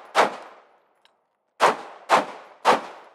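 Four loud, close gunshots at a shooting course during practice: one sharp report, a pause, then three evenly spaced shots in quick succession.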